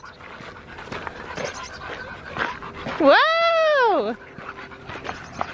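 A dog pants and whimpers on an early-morning beach trip, with a sustained rising-falling whine standing out loudly over a background of people talking nearby.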